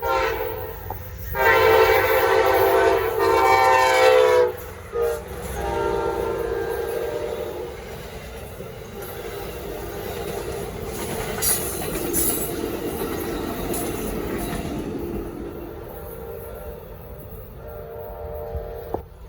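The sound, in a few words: Amtrak 19 passenger train passing, Norfolk Southern line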